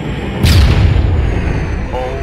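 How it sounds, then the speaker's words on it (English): An explosion goes off just ahead of an M1 Abrams tank in ARMA 3: a single loud, sudden boom followed by a low, heavy rumble that lingers to the end. "There was an explosion right in front of us."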